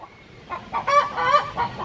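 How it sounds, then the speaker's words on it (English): Chickens clucking close by near a fenced coop, a burst of several loud overlapping clucks and squawks rising in the middle of the brief stretch. "these chickens is loud"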